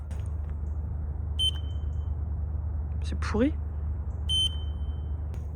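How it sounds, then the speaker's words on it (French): An electric scooter gives two short, sharp high beeps like a fire alarm, spaced a few seconds apart over a low steady rumble, with someone speaking briefly between them. "C'est pas un clignotant, c'est une alarme incendie le truc."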